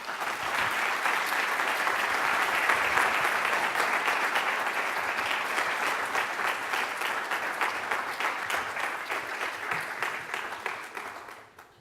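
An audience applauds to welcome Ricardo Lagos, a full, sustained round of clapping from a large crowd that stays strong and then thins toward the end before stopping abruptly.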